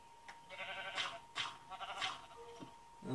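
Sheep in the Minecraft game bleating several times in a row, each call a nasal, wavering burst standing out over a low steady hum.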